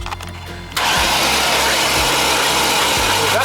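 A 1998 Chevy Vortec engine, being revived after ten years of not running, cranks over loudly and up close: the starter spins in a steady, rhythmic churning with repeated compression pulses, following a short quiet moment.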